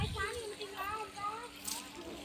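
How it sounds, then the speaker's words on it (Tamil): Water gushing fast from a motor pipe into a village well, a constant rushing splash under close conversational voices. "தண்ணி எவ்வளோ ஃபாஸ்டா வருது"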